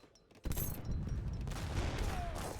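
Heavy cannons fire in the strategy game Age of Empires 3: a sudden blast breaks out of near quiet and rolls into a sustained, fairly faint rumble of battle noise.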